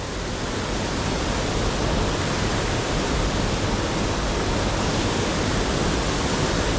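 A river waterfall pours in a constant, dense rush of white water, loud and close, steady throughout with no voices.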